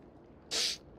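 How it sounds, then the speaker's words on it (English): A single sharp, breathy sneeze bursts out loud and alone over quiet background during a streamer's Honkai: Star Rail session. "Oh God, I'm gonna sneeze."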